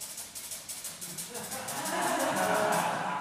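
Rhythmic scraping on a washboard imitates a steam train's chugging, speeding up and growing louder, with hissy bursts at a quickening pace.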